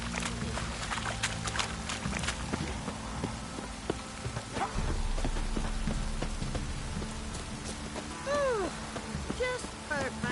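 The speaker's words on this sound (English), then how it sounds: "Oh, it's drizzling." Light drizzling rain in The Witcher video game falls as a soft, constant patter, with a few faint in-game noises and brief voices mixed in.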